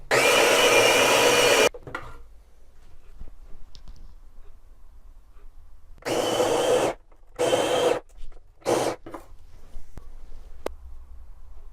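An OXO coffee grinder grinds coffee beans in loud, steady bursts, one long run at the start and then several shorter pulses later, separated by near silence.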